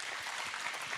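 Audience applause at a church conference talk, a dense steady wash of clapping from many hands that holds at an even loudness throughout, with no voices over it.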